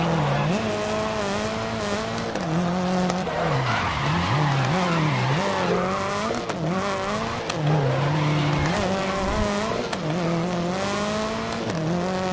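Race car in the video game GRID, engine droning loudly with pitch sweeping up and down through gear changes while tires squeal and skid through corners, constant and close.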